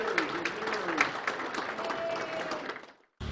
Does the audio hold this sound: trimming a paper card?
no